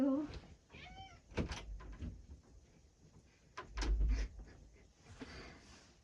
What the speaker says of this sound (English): My cat was trying to leave, so yeah, she had to make herself known.